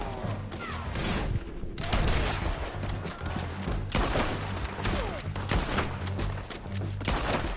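Red Dead Redemption 2 gunfight with artillery: loud, dense volleys of gunshots and booming blasts in continuous rapid bursts, with shouted voices briefly heard over the barrage.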